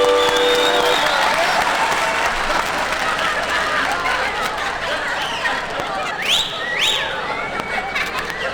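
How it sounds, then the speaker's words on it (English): A 1954 country and western show audience breaks into sustained applause, clapping densely with scattered cheers and whistles, loud and continuous throughout. "Let's give him a great big applause."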